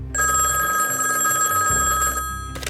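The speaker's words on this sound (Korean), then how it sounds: "전화 한 통이 걸려옵니다" Telephone ringing in the early morning, a loud, close electronic bell trill sustained for a couple of seconds before cutting off.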